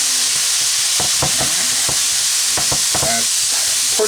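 Ground beef fries in a Presto electric skillet, a loud steady sizzle close by, broken by a series of scraping stirs, with no one talking.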